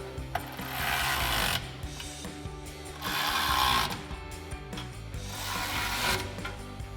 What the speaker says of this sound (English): with our 5mm Allen head socket and our ratchet and our 13mm wrench, go ahead and tighten these down